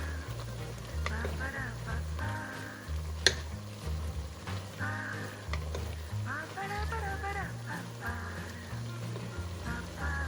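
Bulgogi sizzles and frys softly in a pan as it is gently tossed with spring onions, a low steady crackle with occasional stirring clicks under background music.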